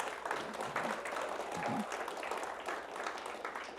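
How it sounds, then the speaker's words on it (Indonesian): Audience applause at an Indonesian poetry event, steady and dense throughout with some crowd noise underneath. "kita beri tepuk tangan yang meriah"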